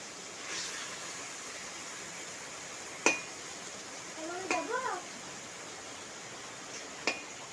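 A spoon scrapes and clinks against a cooking pot of potatoes and spice masala, with a few sharp metallic taps spread over several seconds against quiet room noise and a brief voice.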